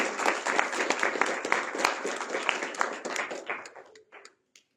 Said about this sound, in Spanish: Denle un aplauso al Señor si usted lo cree en su corazón.